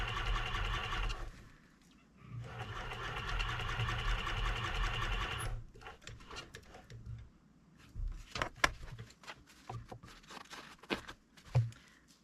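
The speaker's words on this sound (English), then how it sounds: "normally for repairs I use a light colored thread, but I'm using a dark thread today so it's more visible on camera" A sewing machine stitches a repair on fur hide with dark thread in two sustained runs of rapid, even whirring, then gives way to scattered clicks and handling knocks.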